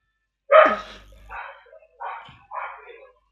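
A pet dog gives four barks, one loud sharp bark followed by three softer ones at roughly even intervals, close by in a quiet room, while people chat over a Wii racing game.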